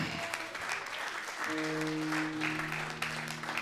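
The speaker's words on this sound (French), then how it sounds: "Est-ce qu'on peut acclamer Jésus?" A church congregation claps and cheers for Jesus, steady applause from many hands filling the room, with sustained tones from a keyboard or organ rising beneath it partway through.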